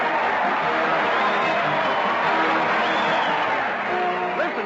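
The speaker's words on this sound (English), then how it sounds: "Listen to that crowd. They're jumping up and down and cheering" A studio crowd cheers at the 1936 Town Hall Tonight amateur radio show, a dense, continuous roar of voices and whoops, loud and close throughout, on a narrow old recording.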